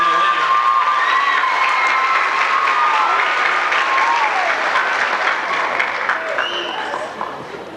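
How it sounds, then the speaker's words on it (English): Loud crowd applause with cheering and shouts at a Miss Del Rio beauty pageant, sustained and lively, with some voices calling out, before fading slightly at the end. "I think the judges deserve a round of applause"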